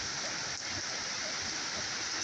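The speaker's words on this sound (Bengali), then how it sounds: "আজকে এরকম বৃষ্টি শুরু হয়ে গেছে কাজের দিন তারপর ওই যে বৃষ্টি" Rain falling on a rural village workday, a steady, even hiss of drops that fills the whole stretch at a moderate, unbroken level with no voices.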